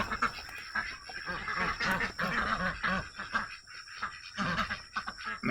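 Ducks quack in a busy, overlapping chorus close by at a homestead pond, with scattered squawks and rustling from chickens mixed in.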